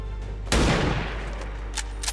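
A single loud, close gunshot in XCOM 2 lands over a low steady game hum, followed by a decaying tail and a couple of faint clicks.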